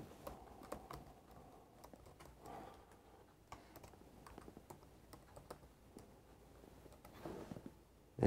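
Quiet tapping on a laptop keyboard while a school login ID is typed in, with irregular soft clicks and short bursts of keystrokes spread across the whole stretch, close and low in level with no talking.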